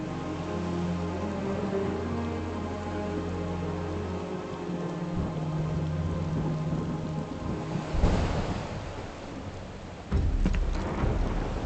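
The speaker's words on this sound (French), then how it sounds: "Il pleut des cordes." Heavy, steady rain pours throughout in the video game Final Fantasy VII Rebirth, with a deep rumble of thunder breaking in near the end over the constant hiss.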